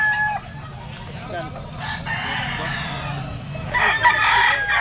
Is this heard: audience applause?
no